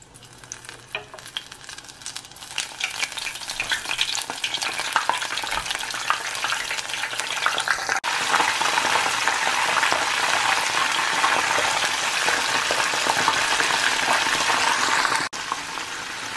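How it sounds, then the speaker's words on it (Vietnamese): Battered razor clams caught from the sea are deep-fried golden in hot oil over high heat, giving a loud, continuous sizzle and crackle that grows denser partway through, with no talking. "Rồi nó xì xè, nó phồng lên cho nó vàng là ok."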